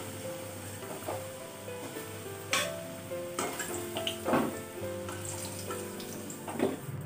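Potatoes frying in oil for a Bengali meat curry with potatoes, a steady soft sizzle with occasional clinks and scrapes of a utensil against the pan, fairly quiet and close.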